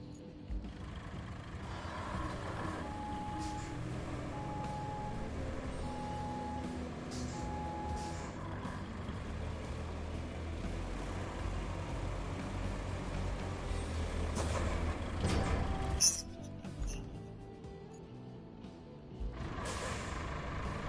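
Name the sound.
truck driving in the video game Roadcraft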